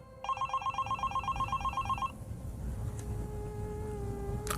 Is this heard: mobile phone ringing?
yes